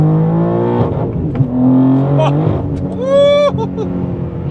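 A tuned 855 hp BMW M3 G80 with manual gearbox pulling at full throttle in third gear, loud engine note rising steadily with a brief turbo whistle near the end, heard from inside with speech over it.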